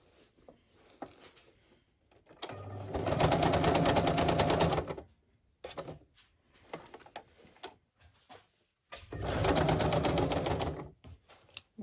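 A sewing machine zigzag stitching fabric, running in two sustained loud buzzing bursts of a few seconds each, separated by quieter handling clicks and rustles close by.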